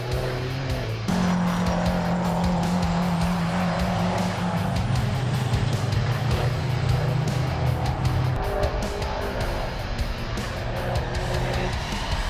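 Kenworth race trucks roar around a circuit at the Super Truck Nationals, their engines droning loudly and shifting pitch through corners, with tyre squeal and a steady rush of racing noise.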